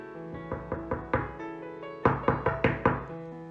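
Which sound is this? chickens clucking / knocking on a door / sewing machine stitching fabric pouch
knocking on a door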